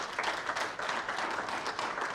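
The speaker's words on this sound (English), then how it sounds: "Please, a round of applause." Audience at a national climate resilience dialogue applauding, a steady moderate wash of clapping that holds evenly throughout with no voices on top.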